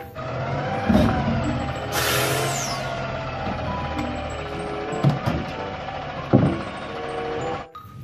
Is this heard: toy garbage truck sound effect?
yes